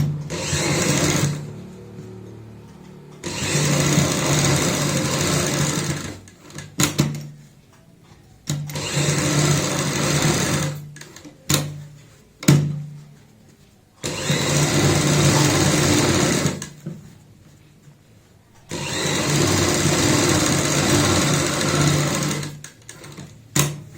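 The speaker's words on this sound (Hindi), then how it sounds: "अब हम यहाँ पे किनारी की सिलाई लगाएंगे।" Edge stitching along a garment neckline on a sewing machine: a run of close, loud whirring bursts separated by brief stops and short stutters as the fabric is guided, with no voices.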